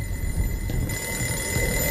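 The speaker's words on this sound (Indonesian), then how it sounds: "suara alarm tiba-tiba berbunyi yang membuat The Collector terganggu" An alarm ringing in the 2009 horror film The Collector; a steady, insistent electronic ringing tone with a high whine, continuous and fairly loud over a low rumbling background, with no voices.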